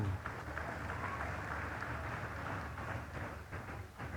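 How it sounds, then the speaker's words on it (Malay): Audience applause at a Malaysian government event for the Deputy Prime Minister, a steady dense clapping that holds evenly throughout without any voices. "berikan tepukan"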